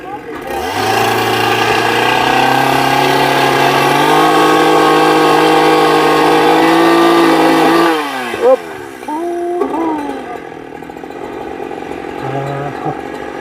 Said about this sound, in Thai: ต้องได้ใช้เครื่องจักรกลจักรสตินพี่น้องไงเนาะเป็นที่ตัดไม้